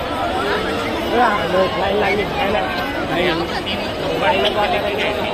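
Dense crowd of devotees at the Thane Durga temple during darshan, steady close babble of many voices with chatter rising and falling throughout.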